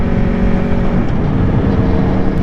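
A 2024 Aprilia Tuono V4 1100 Factory motorcycle's V4 engine runs loud and close, a steady high-revving drone with no breaks or clear rev changes.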